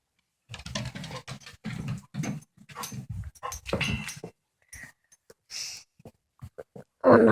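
A dog makes strange whimpering noises, with a few high whines and squeaks near the end after a stretch of a person talking, and a sudden loud burst at the very end.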